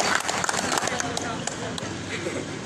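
A crowd at an outdoor swearing-in ceremony in San Andrés Huaxpaltepec, Oaxaca, applauds steadily, the dense clapping filling the air with a few sharper claps standing out, while voices carry through it.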